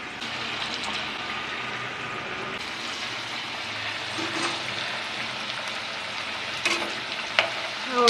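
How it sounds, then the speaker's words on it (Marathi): Chakli, spiral snacks of roasted-flour dough, fry in hot oil with a steady, bubbling hiss throughout, punctuated near the end by a couple of sharp clinks from a utensil. "आता ही मी चकली गरम तेलामध्ये"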